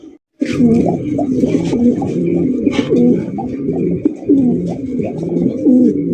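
A pair of snow-white Sirazi pigeons cooing up close, loud repeated throaty coos rolling in a steady rhythm with no pauses.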